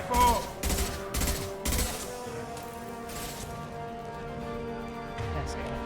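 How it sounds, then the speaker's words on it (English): Sniper rifle fire in a video game: four loud, evenly spaced shots in quick succession, followed by fainter reports and lingering ringing tails. "That's a sniper rifle."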